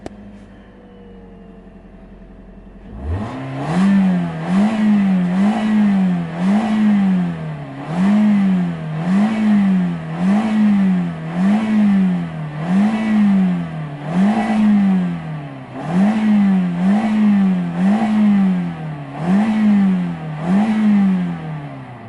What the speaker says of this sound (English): Good running motor, nice transmission.